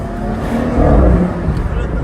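A BMW M240i convertible with its OPF and resonator deleted rumbles loudly at close range as it downshifts, the deep engine and exhaust note swelling briefly midway while people talk over it.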